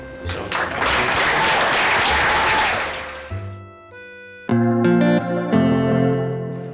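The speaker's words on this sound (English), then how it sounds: "we should give him a big round of applause" Audience applause for a departing colleague on a community broadcast, dense clapping lasting about three seconds, then cut off by loud music with heavy effects.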